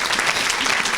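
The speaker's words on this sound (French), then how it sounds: "Acclamons Jésus-Christ." A church congregation applauds in a loud, dense burst of clapping at close range, filling the whole short moment with no pause.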